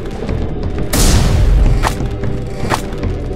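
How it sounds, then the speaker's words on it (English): Booming cannon blast from a SpongeBob video game set in Bikini Bottom, a loud low thud about a second in with a splintering, crashing tail, followed by two sharper crack-like impacts against a busy game soundscape. "Deal with cannons."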